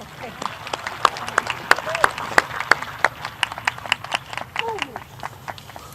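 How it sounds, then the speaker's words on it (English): A crowd claps steadily in sharp, scattered bursts, an enthusiastic round of applause at a high school scholarships and awards ceremony filling the room with no talking over it. "Let's give her a round of applause."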